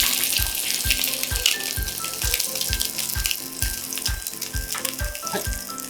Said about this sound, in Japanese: 片面を強火で焼いたら裏面はちょっと弱火で焼いていきます